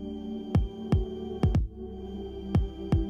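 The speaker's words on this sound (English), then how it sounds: "Or you can even share something as personal as your own heartbeat." A heartbeat shared through an Apple Watch plays back as deep, soft thumps in close pairs, six beats over a few seconds with a low hum underneath.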